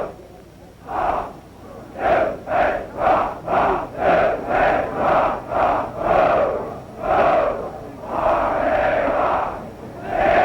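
Some 2,400 men of the Army Military Academy Corps of Cadets, standing in formation on a football field, chant a rhythmic cheer of loud, evenly spaced bursts, rising to a sustained roar near the end.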